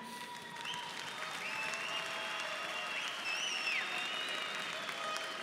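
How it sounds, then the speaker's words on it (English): An audience at a K1 kickboxing event applauds steadily and fairly loudly after a fight, with a few whistles or cheers rising over the continuous clapping. "please, a very big applause for the young,"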